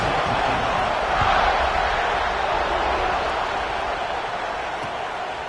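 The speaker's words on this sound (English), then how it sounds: "this crowd is buzzing after that last score." A football stadium crowd keeps up a steady, loud roar and murmur after a score, a dense wash of many voices that holds level throughout with no single sound standing out.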